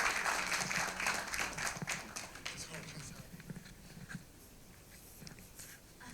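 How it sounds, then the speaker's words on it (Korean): Audience applause at a church anniversary worship service welcoming a uniformed guest forward, steady clapping that starts fairly full and thins toward the end, with a little background talk. "나오실 때 박수로 환영해 주시면 감사하겠습니다"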